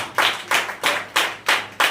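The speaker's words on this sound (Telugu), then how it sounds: "గట్టిగా చప్పట్లు కొట్టండి." A church congregation at a Sunday service claps loudly in unison, six sharp, evenly spaced claps close and strong with no voices over them.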